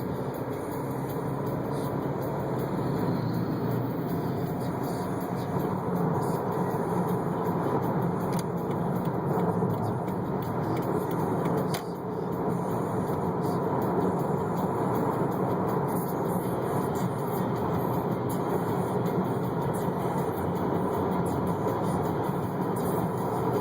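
A car's interior hums steadily with road and tire noise on a drive home, a continuous mid-level drone that persists for the whole stretch with only small shifts and a faint bump midway.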